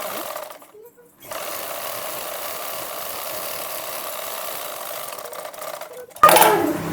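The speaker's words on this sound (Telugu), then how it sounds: "ఇప్పుడు జస్ట్ ఈ లైనింగ్కు మెయిన్ క్లాత్కి మాత్రమే కుట్టు" A sewing machine stitching blouse lining to the main cloth, a steady rapid mechanical whir running for about five seconds after a short pause, then a louder clatter at the end.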